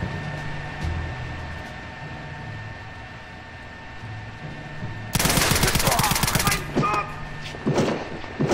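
Sustained bursts of FG-42 machine gun fire in the video game Return to Castle Wolfenstein break out loud after a quieter stretch of ambient drone, rattling rapidly, pausing, then resuming.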